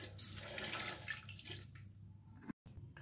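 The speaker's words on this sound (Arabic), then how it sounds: "غادي نزيد الماء." Water is poured into a cooking pot over olive oil for Moroccan couscous, a faint, steady splashing stream lasting a couple of seconds before stopping abruptly.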